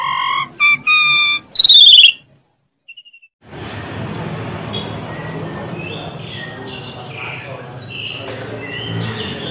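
An oriental magpie-robin (kacer) sings in a bird shop: a few bright, clear whistled phrases open the clip, a brief quiet gap follows, then a steady, busy wash of chirping from many caged birds fills the rest.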